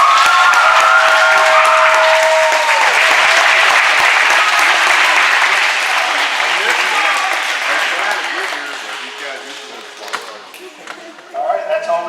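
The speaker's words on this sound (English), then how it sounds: "let's give her a round of applause" Crowd applause at a high school varsity basketball senior night in a gym, loud sustained clapping that gradually fades, with scattered voices and a few sharp bangs near the end.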